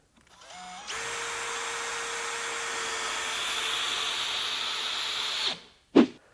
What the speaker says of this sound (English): So countersunk it just below deck there and stopped the drill.